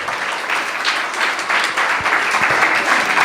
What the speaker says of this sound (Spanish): denle un aplauso grande